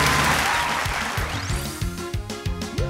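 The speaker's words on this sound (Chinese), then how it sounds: "掌声给他鼓励一下" Studio audience applause on a Taiwanese TV variety show rises for a contestant, a brief burst of clapping that fades under music stings.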